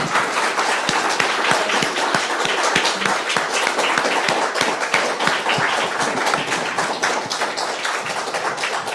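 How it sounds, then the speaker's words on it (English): An audience claps for speaker Beatrice Demetrius at a talk on Métis culture, a steady dense round of applause that stays loud and even for its whole length without any voices. "a big round of applause for Beatrice"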